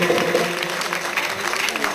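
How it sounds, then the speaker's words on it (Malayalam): Audience clapping at a Kerala festival stage show, a steady dense patter of many hands filling the whole moment, with a bit of crowd noise and faint voices underneath. "എല്ലാവരും ചേർന്ന് നല്ലൊരു കൈയടി"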